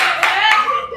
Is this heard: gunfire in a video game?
no